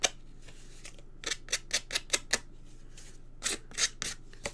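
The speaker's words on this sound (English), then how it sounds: "a pair of scissors, and then just scrape the ends just to give that old raggedy look" Scissor blades scrape along the edges of a plain paper card to distress it, making a series of short, crisp rasping strokes, close and clear over a quiet background.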